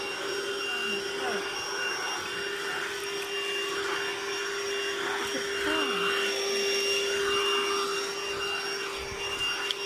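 Lidl cordless Hoover vacuum cleaner running over carpet, a steady whining motor drone with a constant high tone, close and continuous, while people talk quietly over it.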